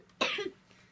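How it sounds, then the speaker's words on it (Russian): A child gives a single sharp cough, close and fairly loud, followed by a short fading breathy tail in an otherwise quiet room. "Ужасно просто кашляет."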